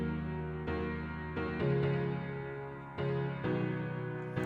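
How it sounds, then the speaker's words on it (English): Second piano part for a song, a moderately quiet sequence of sustained chords changing every second or so, each attack followed by ringing decay, played alone. "This is the second piano I did for the second part of the song."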